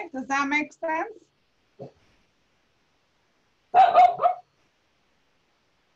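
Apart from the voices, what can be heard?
dog barking in the room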